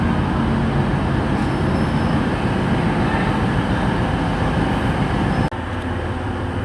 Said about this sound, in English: coming in now about like 4 minutes early is a 1611 TrainSpennine Express service to Leeds